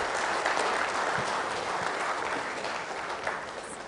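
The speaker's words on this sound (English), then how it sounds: "With a big round of applause, please." Audience in an auditorium at an institute talk applauding the speaker, a steady wash of clapping heard at moderate distance, continuous for about four seconds and easing slightly near the end.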